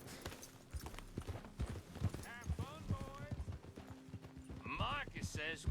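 Horse hooves clip-clop steadily in Red Dead Redemption 2 beneath character dialogue in English and Spanish, with faint game ambience throughout.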